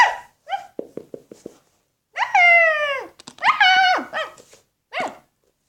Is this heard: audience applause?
no